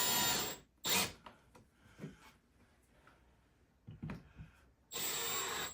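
Power drill driving an exterior decking screw into wood while building a cast iron rack, with loud, close whirring bursts at the start, briefly near one second, and again at the end, quieter handling noises between.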